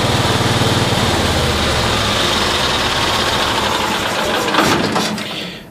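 Small engine of a 1972 Cushman pickup straining against its governor, a loud, buzzy, continuous drone close by that wavers slightly and drops off at the very end.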